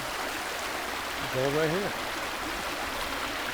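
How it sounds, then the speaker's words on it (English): Water flowing in a gold-bearing stream, a steady soft rushing wash throughout, with someone speaking briefly over it. "Listen to the water, man. Let it flow."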